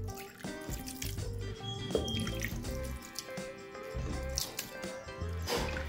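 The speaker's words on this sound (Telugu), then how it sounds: "కాస్త వాటర్ వేసేసుకుందాం దీంట్లో." Water is poured from a tap into a pot of mutton pieces coated with spices for a mutton fry, splashing and trickling with scattered drips and clinks of the pot, close and fairly quiet.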